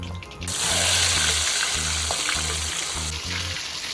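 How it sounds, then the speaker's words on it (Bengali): Rohu fish heads frying in hot oil give a loud, steady sizzle that starts after a short pause and runs on without break, with a low, rhythmic pulsing under the hiss. "এবার বাকি মুড়োগুলোকে ভেজে নেব।"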